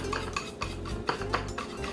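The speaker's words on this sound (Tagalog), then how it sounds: "So, haluin muna natin to." Food coloring being stirred into puto batter, with a quick run of rhythmic scraping and tapping strokes of a utensil against a bowl, close and fairly clear with no speech.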